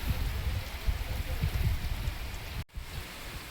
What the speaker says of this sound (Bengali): আর বৃষ্টিটা আসছে দেখুন, শুধু সবেই শুরু হলো।